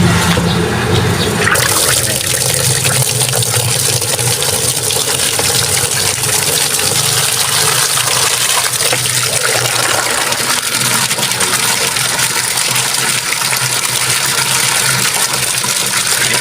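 Water rushes steadily from a running shallow well pump, a loud continuous gushing hiss that holds without a break from start to finish.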